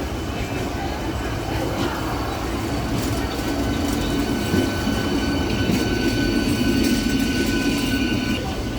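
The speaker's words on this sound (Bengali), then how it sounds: "এটা একটি লোকাল ট্রেন, যেটা পদ্মপুকুর হয়ে শালিমার স্টেশনে পৌঁছাচ্ছে" A local train on the South Eastern Railway rolls past Padmapukur station toward Shalimar, a steady, close rumble with wheels squealing throughout, and faint voices underneath.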